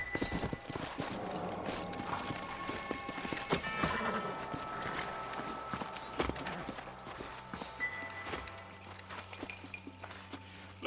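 Horse hooves clop in a steady rhythm in the Western video game Red Dead Redemption, fairly close and mixed with other game sounds and occasional voices.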